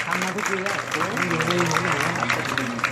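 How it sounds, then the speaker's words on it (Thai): Applause for young primary-level athletes at a Thai school sports closing ceremony, a dense steady patter of many hands filling the space while a voice talks over it. "ผมขอเสียงปรบมือให้กับนักกีฬาระดับประถมวัยด้วยครับ"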